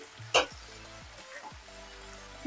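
Chopped seedless tomato going into a hot pan with onion, giving one short sharp sizzle burst, then a low, steady frying hiss with faint scrapes, close and quiet.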